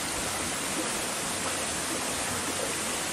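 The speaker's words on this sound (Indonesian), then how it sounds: "Berhubung ini di air terjun, airnya banyak, nggak akan terkontaminasi" Water pours steadily at a waterfall, a dense, unbroken rushing roar that stays constant and fairly loud throughout, with no voices over it.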